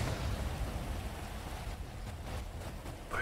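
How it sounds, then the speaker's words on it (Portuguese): Rain falls steadily in a GTA game, a soft broadband hiss with faint low rumbling and a few light taps, continuous and fairly quiet. "Está daqui a apanhar com a chuva na cara."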